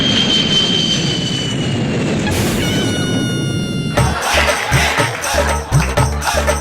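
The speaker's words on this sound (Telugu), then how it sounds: "పైనుంచి ఫ్లైట్ వెళ్తుందిగా." A jet airplane roars overhead as a staged sound effect in a comedy skit, a loud broadband rush that holds steady for about four seconds before giving way to busier, rhythmic stage noise.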